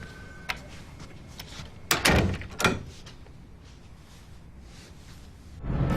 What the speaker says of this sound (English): I got a new door.